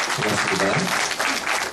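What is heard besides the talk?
audience applause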